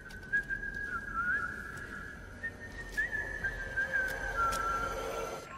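A man whistles a tune to himself while mopping floors, a steady clear melody that carries on alone over a low background hum.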